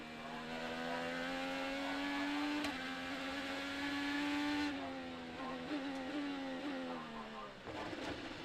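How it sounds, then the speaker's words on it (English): A high-revving IndyCar engine whines steadily and loudly in onboard footage, its pitch shifting as it changes gears, with commentary talking over it. "You hear the engine start to go quiet"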